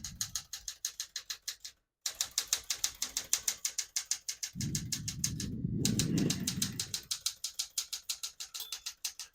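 Keys clacking on a 1974 Smith-Corona Galaxie 12 portable typewriter, a rapid, regular run of sharp strikes with a brief pause and a short rumbling carriage movement midway, close and clear.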